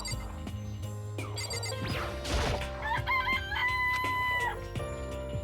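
Game chickens in Danganronpa cluck and let out a loud crow over steady background music and electronic chimes. The calls are repeated and close, with a brief crash-like burst partway through and no voices.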